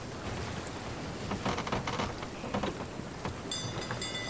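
Storm rain pours steadily in Sea of Thieves at sea, a continuous hiss with a few brief louder swells like rolling thunder, plus faint high tones near the end.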